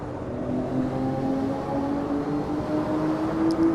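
A Lamborghini Aventador SV engine in the Assetto Corsa video game drones steadily, its pitch sliding and shifting through downshifts, loud and continuous with no talking.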